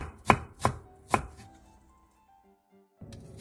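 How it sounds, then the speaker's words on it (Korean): Three sharp, loud knife chops through carrot and onion on a cutting board in quick succession, then near silence with a soft knock at the end. "당근 조금과 양파 반개를 얇게 채 썰고 대파 2분의 1개는 짧게 어슷썰게"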